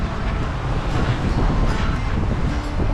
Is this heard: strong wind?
yes